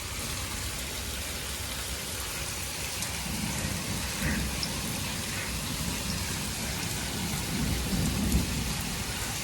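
Heavy rain pours steadily in a village, a dense continuous hiss with low rumbling thunder swelling beneath it, loud and close throughout with no voices.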